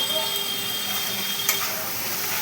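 Spices with turmeric and salt sautéing in a pan, a steady close sizzle and hiss that runs unbroken throughout with a faint clink partway.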